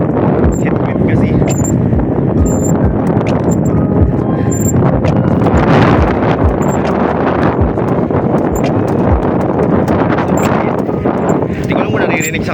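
Strong headwind buffets a camera microphone on a cyclist's ride along a bumpy cement road, a loud continuous rumbling roar with gusty low thumps throughout, no clear voice cutting through.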